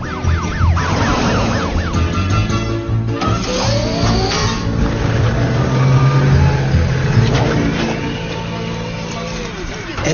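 A cartoon fire truck's siren wails in rapid up-and-down sweeps, loud and close, under excited talking and music, with engine and vehicle effects mixed in.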